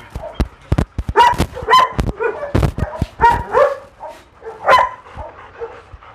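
German Shepherd puppies and adult dogs bark, yip and whimper at their first feeding, with a busy, overlapping run of loud, close barks.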